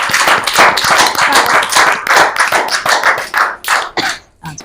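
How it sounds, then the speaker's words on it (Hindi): At a Hindi poetry gathering, an audience claps to welcome a young poet onstage, loud rhythmic hand claps in pulsing bursts that taper off and stop near the end. "जोरदार तालियों से अभिनंदन करें अर्चिता मुंडरा"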